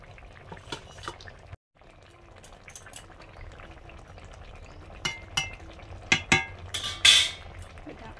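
Small mourala pond fish going into a simmering curry broth in a pot, with soft bubbling throughout and a few sharp splashes and clinks near the end, close and moderately loud, with no talking.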